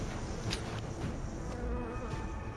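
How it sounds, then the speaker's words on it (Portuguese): A swarm of killer bees buzzing, a dense, continuous droning hum that stays close and steady throughout. "acaba assustando uma enorme colmeia de abelhas assassinas"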